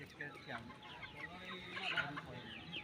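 Vanaraja chickens on a farm cluck and chatter in a busy, overlapping flock. The sound is fairly soft and steady, with a faint voice in the background.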